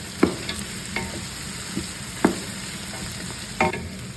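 Chicken, carrot and cabbage stir-fry in a pan for a noodle dish, with a low steady sizzle punctuated by several sharp spatula scrapes and knocks at irregular intervals, no voices.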